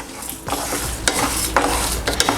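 Toor dal, cumin seeds and black pepper dry roasting in a pan, stirred with a few scraping strokes over a steady low crackle, close and moderately loud, no talking.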